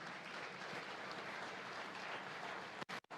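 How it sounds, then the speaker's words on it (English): Faint, steady applause from a large audience at a university student induction programme, sustained hall-wide clapping that cuts off abruptly near the end. "A big round of applause to your parents too"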